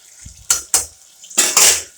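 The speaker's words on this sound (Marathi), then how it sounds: "बटाटे तळून घेऊ" Potatoes frying in a pan, with a few sharp metallic scrapes and clanks of a utensil against the pan over a light sizzle, close and brief.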